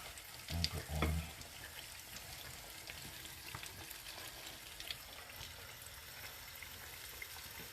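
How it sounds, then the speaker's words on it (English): Chicken frying in hot oil for Jamaican fried chicken gives a soft, steady sizzle, with a brief louder splash near the start, low and close. "because the oil's so hot, when you put it in, it's going to sizzle"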